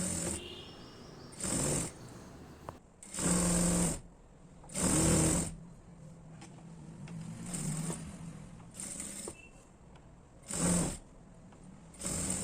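A sewing machine stitches piping onto a blouse in short, loud bursts of rapid whirring, about eight runs separated by pauses filled with faint handling, close up and without speech.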